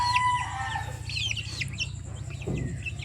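One-month-old chicks and chickens cheep and cluck close by, with steady bird calls and a brief louder burst of clucking near the end.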